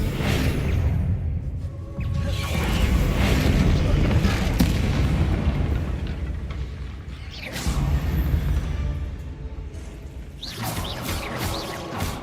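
Confringo spell explosions in the game Hogwarts Legacy rumble as heavy, booming blasts, loud and close, rolling one into another over about twelve seconds with a whooshing burst near the end.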